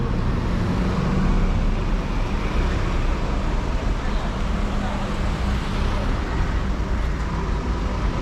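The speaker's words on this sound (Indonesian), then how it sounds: "Besar nih busnya." Busy roadway ambience at Kajang bus station in Malaysia, with large express buses idling and moving nearby, a steady broadband rumble of engines and traffic that never lets up across the whole stretch.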